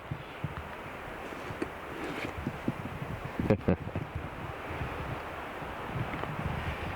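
Gusty wind buffets the microphone on an open hillside during a spring bear hunt, a low rumbling roar with rustling bursts and a few sharp knocks, no voices.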